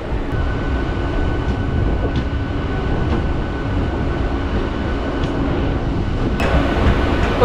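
A passenger train on the Chengalpattu–Arakkonam route rolls into Arakkonam Junction with a loud, continuous low rumble and rail noise from inside the carriage, with a few faint clicks and no voices.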